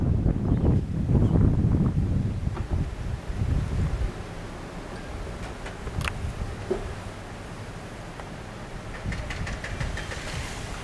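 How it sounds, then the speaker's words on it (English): Strong blizzard wind in Woodward, Oklahoma, buffeting the microphone in heavy low gusts that are loudest at first, then ease into a steady rushing roar with faint scattered clicks. "Wind has just really started picking up."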